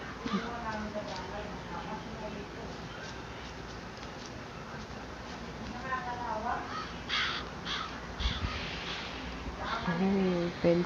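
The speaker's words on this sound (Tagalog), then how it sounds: "So may uwak." Several harsh crow caws ring out in an open, wooded area, some distant and some closer, over a steady hum of insects and outdoor ambience.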